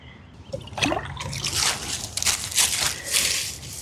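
Liquid fertiliser poured from a container straight onto houseplant soil beneath moved-aside leaves, producing close, uneven trickling and splashing bursts over about four seconds without talk.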